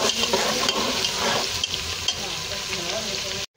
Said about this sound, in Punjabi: ਇਹ ਹੁਣ ਲਾਉਣ ਲੱਗੇ ਹਾਂ ਜੀ ਲਸਣ ਅਦਰਕ, ਇਹਨੂੰ ਬਰਾਊਨ ਕਰਨਾ ਲਸਣ ਅਦਰਕ ਨੂੰ